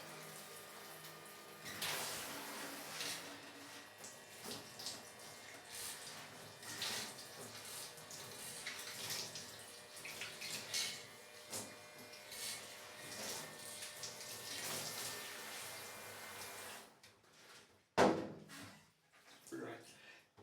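A portable USB-rechargeable camping shower sprays water in a strong, hissing stream with uneven bursts, and voices talk over parts of it before a short stop near the end.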